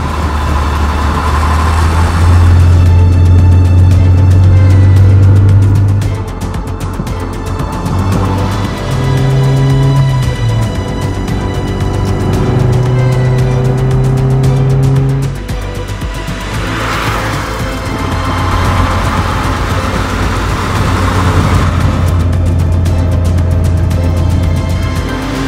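A classic Mini Cooper with a 63-horsepower 1.3-liter engine drives hard, its engine loud and close, revving in long rising pulls with gear changes between them and occasional tire squeal.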